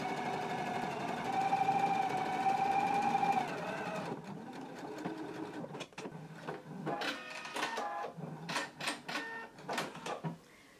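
Sewing machine running a seam along a basting line while making a Simplicity 8889 garment, a steady mechanical whir for about four seconds followed by a quieter, irregular clatter of short bursts, close and alone.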